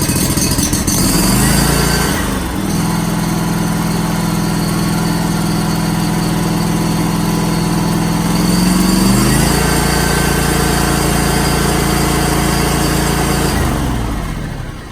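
A Ferris FW35 48-inch walk-behind commercial mower engine runs loud and close throughout, with steady droning and shifts in pitch as the revs change twice before easing near the end.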